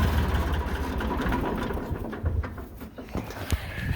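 A loud, steady 1998 TAFE 35DI tractor diesel engine idles close by with a low, rumbling drone that continues throughout, with a few faint background chirps.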